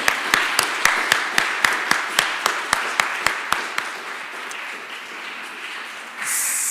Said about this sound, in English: So if you kind of join me with a little clap at the end,